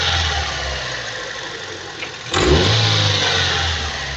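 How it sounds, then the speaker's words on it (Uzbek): A Daewoo Nexia running on petrol, its engine idling steadily and then revving up sharply partway through, then holding a louder, higher run. Close and continuous, with no talking. "Mashina mana benzinda yurib turibdi."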